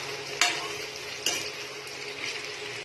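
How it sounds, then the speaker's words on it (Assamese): Sliced onions fry in hot oil over a high flame for an Assamese chicken curry, with a steady soft sizzle broken by a couple of sharp scrapes as a spoon stirs the pan. "এতিয়া আমি পিঁয়াজখিনি মুগা বৰণীয়া নোহোৱালৈ হাই ফ্লেমত ভাজি থাকিম।"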